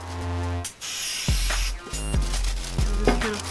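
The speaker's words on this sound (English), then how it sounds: "she's going to spray the sides so that we can just fold the tissue paper over and it'll stick" Spray adhesive hisses onto the cardboard sides of a homemade Death Star piñata in short close bursts, with a gap and soft handling noises between sprays over a steady background hum.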